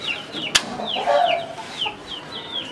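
Chickens clucking and calling in a shed at an Aseel chicken farm, with short rising and falling squawks close by, a sharp knock partway through, and steady background noise.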